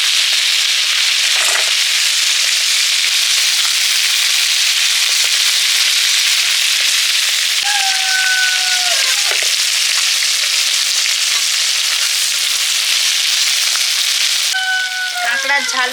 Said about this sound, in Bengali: কাঁকড়াগুলো ভাজা হয়ে গেছে